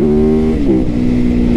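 A 2023 Yamaha YZF-R9 motorcycle engine revs hard during a wheelie, a loud, close, steady buzzing drone that dips briefly and then climbs again, with no talk over it.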